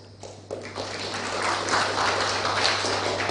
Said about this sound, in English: I believe the judiciary deserves a clap for that.